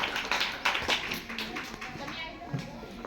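An audience at a farewell ceremony for a teacher at a primary school claps in a spread of uneven, moderate hand claps and taps, with a speaker's voice over the applause.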